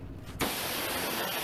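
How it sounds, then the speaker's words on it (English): A power washer blasts water over a greasy car engine, cutting in abruptly after a short quiet moment and then holding a loud, steady hiss of spray. "you're just kind of spraying water over it"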